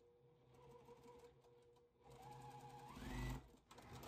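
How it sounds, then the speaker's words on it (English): A sewing machine stitches quilt block pieces together for a four patch basket block, running in a steady mechanical whir that swells louder toward the end before slowing. "So I'll sew these together and then we'll add one of those on."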